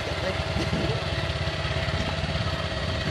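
A motorcycle carrying three riders idles and putters along a rough, dangerous road, its low engine chug constant and fairly close, with some wind rumble over it.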